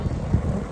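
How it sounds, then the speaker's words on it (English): Wind buffeting an outdoor cooking spot while German burgers are being made, a continuous low rumbling gust against the microphone, steady and fairly loud throughout. "It's getting a bit windy, yeah."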